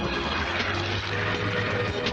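A seaplane's engine drones steadily and loudly with a low propeller hum, continuous and without breaks.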